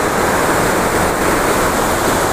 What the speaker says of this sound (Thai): เหมือนอยู่ใกล้น้ำตก